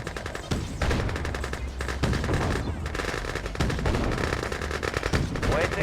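Gunfire in Red Alert 2 during the Soviet campaign's Paris mission: dense, continuous bursts of rapid weapon fire and impacts throughout, loud and busy, with a voice talking over part of it.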